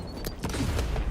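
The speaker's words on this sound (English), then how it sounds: "Throwing shock grenade." A shock grenade going off in a video game, a burst of sharp cracking, popping impacts spread across a second, fairly loud with no talk over it.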